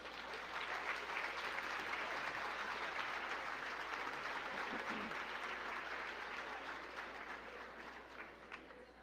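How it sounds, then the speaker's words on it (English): A large audience at a wine tasting event applauds continuously, a dense wash of clapping that holds steady and then slowly tapers off toward the end. "please welcome Diane Williams with a big round of applause"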